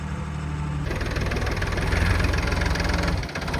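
A tractor engine runs close and loud with a steady low diesel rumble and knock, the revs shifting slightly near a ramp before dropping briefly at the end.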